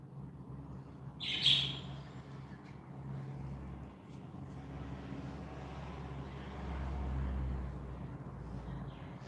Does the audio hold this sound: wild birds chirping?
yes